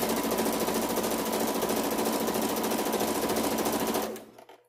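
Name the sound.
sewing machine lock stitching a fabric face mask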